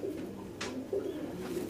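Pigeons cooing nearby in a loft, soft throaty calls repeating several times over a low background murmur.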